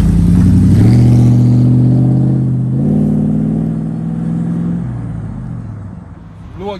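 A car pulls away in low gear at a drag race meet. Its engine revs loudly up close, rises in pitch through two pulls, then eases off and fades.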